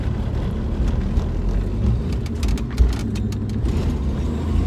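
A car with a three-on-the-tree manual transmission driven by a learner, its engine humming low and steady as it pulls away under gas, with faint clicks and no talking.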